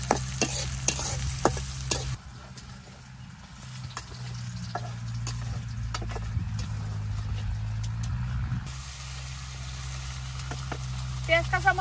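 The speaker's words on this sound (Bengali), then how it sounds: "পেঁয়াজ কাঁচামরিচ গুলো ভালোভাবে ভেজে নেই।" Chopped onion and green chillies with garlic frying in oil in a pan, a steady loud sizzle with stirring and scraping throughout, a voice speaking over it.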